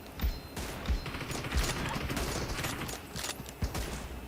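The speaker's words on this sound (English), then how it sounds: "The other guy is shooting" Gunfire in the PUBG Mobile video game, with several sharp shots at irregular intervals over a busy background of game noise, moderately loud and with no speech over them.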